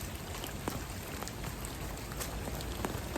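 Steady rain falls on a surface, a dense, even hiss of countless close droplets with a few louder individual splats scattered through it.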